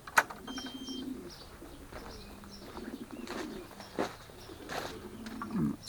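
Soft pigeon coos repeat low and close, with occasional wing flutters and faint outdoor background noise.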